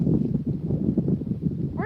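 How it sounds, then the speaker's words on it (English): Loud outdoor wind buffets the microphone continuously with heavy low rumble while collecting grapevine cuttings, with a voice faintly under it. "it is so windy here"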